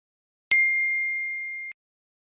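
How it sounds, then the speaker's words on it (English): A single bell is struck once, giving a bright metallic ding that rings on as a clean sustained tone for over a second before cutting off abruptly, alone against silence. "It's just somebody hit a bell"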